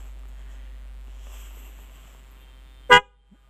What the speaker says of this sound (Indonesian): Oh ya, di sini klaksonnya sudah diganti.